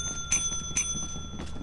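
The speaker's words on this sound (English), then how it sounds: "why you keep ringing the bell, bro?" Bell rung repeatedly in the video game Lethal Company, bright metallic dings in quick bursts of two, then a pause and more rings, over low game ambience.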